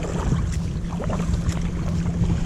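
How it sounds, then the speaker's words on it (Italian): Motorboat engine on a river, heard as a steady low drone, partly masked by wind noise and water sounds close to a kayak. "sento rumore di motoscafo"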